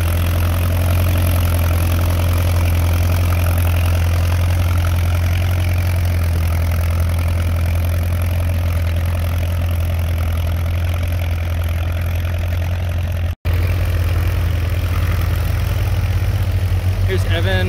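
A WD tractor idles steadily while pulling a two-bottom plow at an antique tractor plow day, its low engine drone continuous and fairly loud throughout, with a brief dropout near the end.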